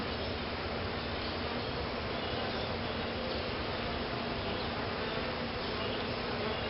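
Honey bees in an opened swarm hive being requeened, a dense, continuous buzzing hum that stays steady and close with no voices.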